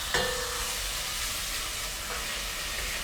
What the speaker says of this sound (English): really just want to get a little bit of texture from sauteing